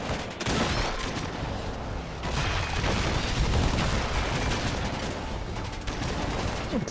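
Weapons fire in the Halo Wars strategy game, a dense, loud barrage of shots and booms rolling on without pause for several seconds.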